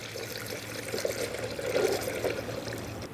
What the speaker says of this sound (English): And now just take the manufacturer specified coolant and fill it up.